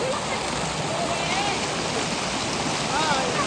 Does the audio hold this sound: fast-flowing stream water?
yes